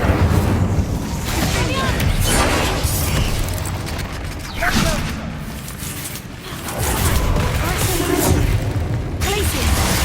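Incendio fire spell cast during combat in Hogwarts Legacy, a loud, dense rush of magical effects with booming bursts and popping crackles that swell, dip midway, then surge again throughout.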